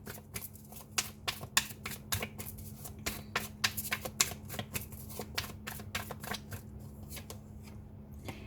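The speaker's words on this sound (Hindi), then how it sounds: "यहाँ से भी कुछ कार्ड्स निकाल कर देख लेते हैं।" Tarot cards are shuffled and drawn during a reading, giving a quick run of crisp, close flicking and riffling snaps in a steady rhythm, with no one speaking.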